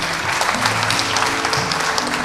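An audience applauds at a spelling contest final in Benin, a dense continuous clapping from a large crowd filling the hall, steady and loud throughout with no talk over it.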